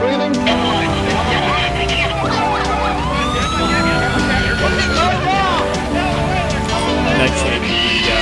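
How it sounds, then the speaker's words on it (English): Sirens from several emergency vehicles at the scene of a motor vehicle accident, with rising and falling wails overlapping loudly throughout, mixed with a busy background of voices. "The motor vehicle accident. All kinds of sirens."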